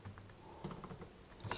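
Typing on a computer keyboard while saving a Raspberry Pi web server script: a short run of quiet, close key clicks with a firmer press at the end, like Enter, no talk.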